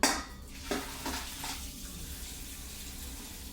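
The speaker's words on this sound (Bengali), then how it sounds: "এবার কাঁকড়াগুলো আমরা ঢালি নেই" Wet, clattering pours of boiled crabs into a pan at the start, followed by a steady hiss and sizzle of liquid in the pan. The sizzle continues alone, with no talking.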